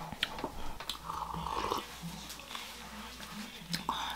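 Soft, close crunching of crispy protein puffs being chewed in a protein shake made with water, a quiet irregular mastication with faint breathing and low background hum.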